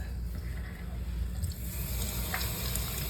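Water is sprayed like a pressure washer to clear a backed-up medical drain, giving a steady, hissing rush with low rumble that runs unbroken throughout and sounds fairly faint.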